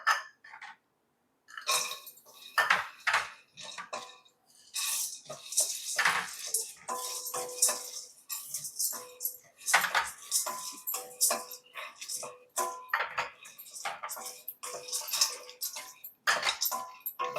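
Ingredients for homemade protein powder dry roast in a pan, giving a steady run of close, sharp rattles, scrapes and ticks of a stirring spoon against the metal, with short pauses between bursts.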